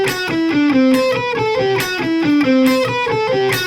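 Distorted lead melody running in rapid sixteenth notes, each group's first note accented, a bright buzzy synth or guitar tone playing loud and continuous over about four seconds, no voices.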